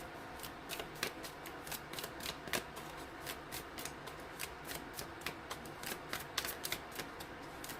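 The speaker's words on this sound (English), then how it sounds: "I'm going to keep shuffling" Tarot cards being shuffled by hand, a steady stream of soft, rapid flicks and riffles with sharper snaps now and then, close but quiet.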